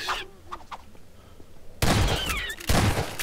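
Gunfire in Half-Life 2, two loud close blasts in quick succession, each a sudden broad burst that rings on briefly after a quieter stretch of game ambience.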